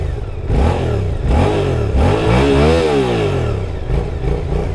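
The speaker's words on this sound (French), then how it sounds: "je vous fais écouter un peu la sonorité du moteur." Engine of a 2023 Suzuki GSX-8S mid-size roadster motorcycle revved up close: throttle blips climb and fall several times, then a longer rising rev peaks and drops back to a throbbing idle.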